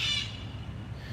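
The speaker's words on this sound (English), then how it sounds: "oh, there's some bird in the tree." A single harsh caw from a bird in a tree rings out at the start, then fades into faint outdoor background noise.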